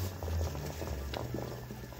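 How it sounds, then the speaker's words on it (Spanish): Water heating in a covered pot used to steam Colombian esponjados, a low bubbling simmer with soft patter and a deeper rumble underneath, fairly quiet and close. "Y vamos calentando agua."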